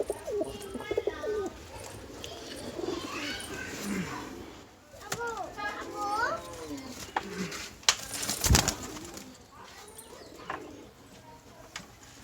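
Rajshahi Giribaj pigeons coo nearby in repeated rolling calls, and someone talks over and between the calls.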